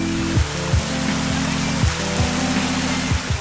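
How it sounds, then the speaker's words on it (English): Fresh water spilling over stones in a garden stream in a water garden on Eleuthera, a steady broad rushing wash, close and continuous, overlaid by a low tonal hum that swoops periodically. "vibing with the soothing sounds of fresh water spilling over stones in a stream"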